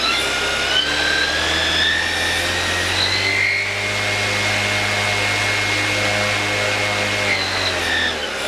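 A V3508 360Kv brushless motor on a tricopter spins its front propeller on a 3-cell battery, giving a steady, loud electric whine and drone that holds constant throughout, with higher tonal harmonics shifting slightly mid-way.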